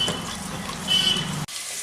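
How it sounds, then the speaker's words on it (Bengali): A spice masala with yogurt sizzles and fries steadily in a pan over low heat, a continuous close crackling hiss that cuts off abruptly near the end. "এই মশলাটাকে এখন ভালো করে কষিয়ে নিচ্ছি"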